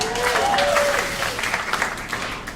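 A stand-up comedy audience clapping: a sustained wash of applause from a crowd, steady and fairly loud, with a voice faintly audible over the start.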